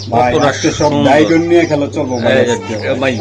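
Domestic pigeons, including racer and local gola breeds, coo at a Bangladeshi pigeon seller's stall, low and soft beneath a man's continuous close-up talking.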